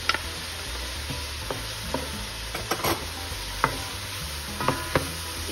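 Crushed garlic and chopped onion sizzle in a pan for Puerto Rican arroz apastelado while a utensil stirs, giving a steady fry hiss broken by scattered scraping clicks, close and moderately loud, with no talking.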